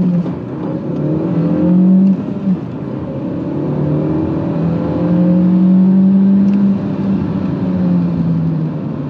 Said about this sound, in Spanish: Se escucha la válvula de alivio del turbo.